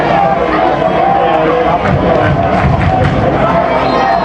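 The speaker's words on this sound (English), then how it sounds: "Got a pretty good crowd here." Crowd noise from the stands at a high school football game: steady, loud babble and cheering fill the whole stretch, with an announcer-style voice talking over it.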